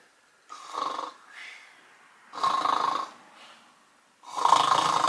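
An adult imitates snoring at home to lull a baby to sleep: three slow, close, rasping snore breaths, each followed by a quieter exhale, in a steady rhythm with no other talking.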